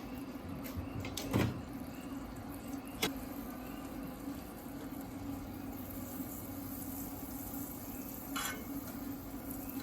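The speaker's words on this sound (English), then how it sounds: "Red pepper, a yellow onion, and we're gonna put it down here on the griddle and give these guys a go." Red pepper and yellow onion cook in butter on a Blackstone griddle over low heat, giving a faint, steady sizzle throughout with a few brief scraping and utensil clinks on top.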